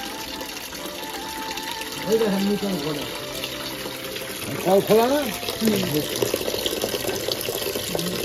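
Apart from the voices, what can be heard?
water from a home tap filling a bucket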